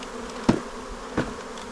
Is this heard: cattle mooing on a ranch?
no